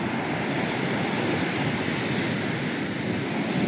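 Ocean waves roll in rough, stormy weather, a constant dense roar of surf and wind filling the whole stretch with no voices.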